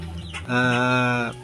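A single drawn-out crow from a young gamecock stag, rising and holding a harmonic tone for about a second, loud and close, with brief low sounds before it.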